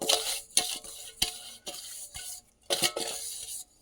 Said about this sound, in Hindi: ये देखिए, अब मैं इन सारी चीज़ों को इस तरह से मिक्स कर दूंगी।